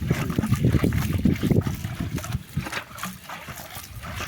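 Water poured onto dry compost in a field, a close rushing splash and trickle that is strongest at first and then eases into softer dribbling.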